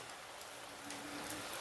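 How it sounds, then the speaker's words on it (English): Water poured into a bowl while cooking cabbage and capellini, a steady soft splashing wash that runs unbroken and fairly quiet throughout. "then you put the water inside."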